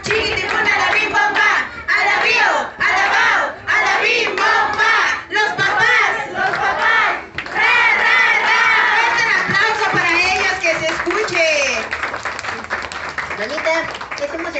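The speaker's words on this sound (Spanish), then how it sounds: "¡Fuerte el aplauso!" Guests at a baby shower break into loud, sustained applause mixed with cheering and shouting voices, a dense crowd roar that swells and dips without letting up.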